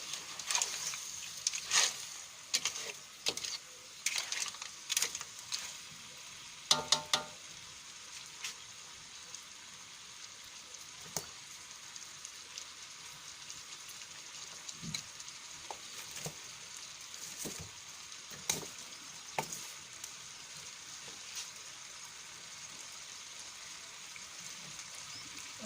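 Rice frying with a steady soft sizzle in a seafood paella pan, punctuated by sharp scraping stirs at irregular intervals, fairly quiet and without voices.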